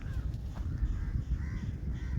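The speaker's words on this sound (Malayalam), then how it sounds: "കാക്കച്ചി പറയൂ, എന്താണ് പറയാനുള്ളത്?" A crow caws in hilly country, giving a few harsh calls spread across the moment at moderate distance over a low rumbling background, with no talking.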